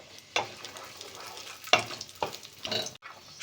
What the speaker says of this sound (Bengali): সিমইতে দেবার জন্য ড্রাই ফ্রুট আগে ভেজে নেব।